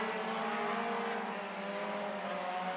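Four-cylinder stock cars race on a track, a sustained engine roar with a slight rise and fall as they run side by side, fairly distant and steady with no voices.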